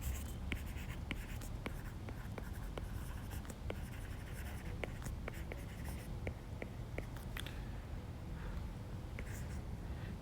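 Pen or chalk scratching steadily while a math proof is written out, with a run of short strokes and taps at close range over a quiet room hiss, and no talking.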